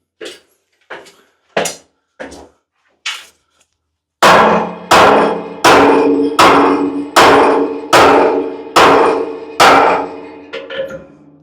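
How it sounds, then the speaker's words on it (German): Small hammer striking a metal fitting on a heat pump storage tank, with four sparse sharp clanks followed by a faster run of about nine loud ringing metallic blows, close and without speech. "Oben könnt ihr einen Hammer nehmen, um das mal vorzulösen."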